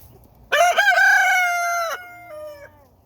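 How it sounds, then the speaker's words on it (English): A single close, loud rooster crow rises sharply, holds for about a second and a half, then trails off into a fainter tail, heard alone in a quiet backyard coop setting in winter. "Uh-oh, he's crowing now."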